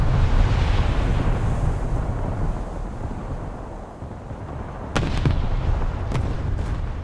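Naval guns firing from warships in a naval combat video game: a few sharp, distant booms land near the end over a steady low rumble of engine and sea noise.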